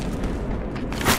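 A frag grenade goes off in the Battlefield Hardline bank job team deathmatch as a dense, loud, rumbling blast. It swells briefly near the end of a short burst of continuous battle noise.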